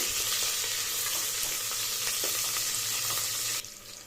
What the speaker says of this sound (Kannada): ಈರುಳ್ಳಿ ಒಂದು ಲೈಟ್ ಬ್ರೌನ್ ಗೋಲ್ಡ್ ಬ್ರೌನ್ ಆಗೋವರೆಗೂ ಫ್ರೈ ಮಾಡ್ಕೊಳ್ಳಿ